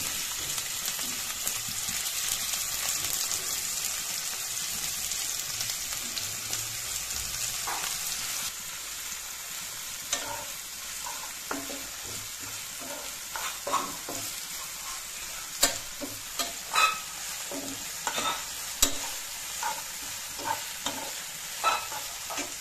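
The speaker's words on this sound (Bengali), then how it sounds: "তো পেঁয়াজটা দিয়ে দিলাম আমি প্যানে।" Onions sizzle in a pan, a steady bright frying hiss at first, then spattering pops and stirring clatter scattered through the latter half, close by.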